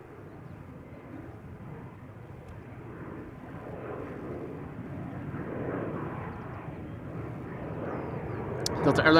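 A Delta A350 airliner bound for Detroit at Amsterdam Schiphol Airport, steady jet engine roar that swells gradually as it approaches, loud and continuous.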